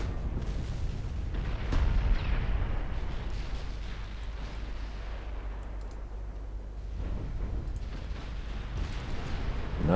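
Mark V 15-inch naval guns fire from a battleship in a warship strategy game set in a 1947 Norwegian campaign, heard as deep heavy booms over a continuous low rumble, with faint distant thuds and crackle mixed in.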